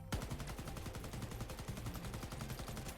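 An automatic weapon in the video game Shatterline fires a sustained rapid burst, evenly spaced punchy shots rattling on for about three seconds, loud and alone.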